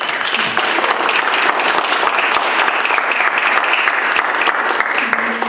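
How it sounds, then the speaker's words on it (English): A crowd at a Texas beer history celebration gives brewing panelists a round of applause, a dense, steady wash of many hands clapping throughout with no pause. "I'd like us to give them a round of applause."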